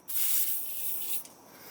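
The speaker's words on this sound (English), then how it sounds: "Number 2 right here, just going to spray her again." WD-40 lubricant sprays onto a rubber exhaust hanger under a 2015+ Subaru WRX, one steady hissing burst just over a second long, close and fairly loud, then cutting off.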